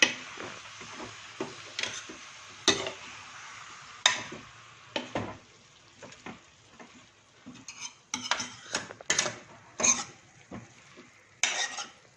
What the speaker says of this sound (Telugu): అంతా కలిసేలాగా బాగా కలుపుకోండి